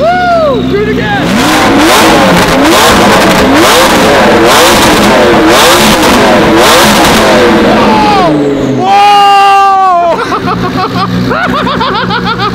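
A car with a top-mount straight-pipe exhaust revs repeatedly in loud, close, rapid bursts, then settles and climbs again, while onlookers laugh and chatter underneath.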